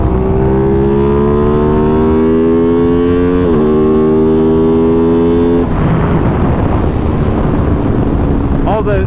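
A 2021 Aprilia RS660 motorcycle under throttle on a ride, its engine note droning loudly and rising steadily in pitch, then dropping off into rougher wind-buffeted rumble.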